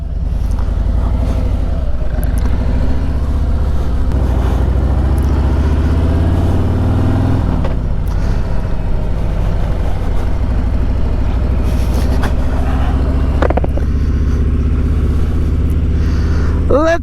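A motorcycle fitted with KST handlebars rolling along on a ride, a steady loud engine drone with wind rush and occasional shifts in pitch as it accelerates.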